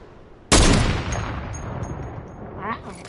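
A single sharp, loud gunshot in a video game cracks out abruptly, then decays into a rough, rumbling tail with faint scattered clicks, and a brief voice-like burst near the end.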